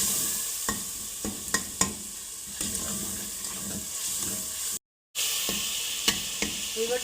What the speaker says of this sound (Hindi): ये मसाले जाएंगे, अच्छी तरह भूनेंगे।